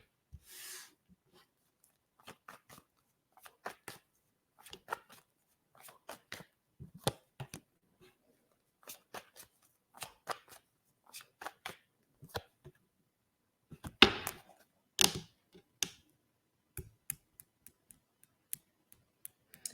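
Tarot cards are handled and shuffled at a quiet table, producing soft, scattered clicks and flicks with a denser riffling flurry near the middle, all faint and close with no voices.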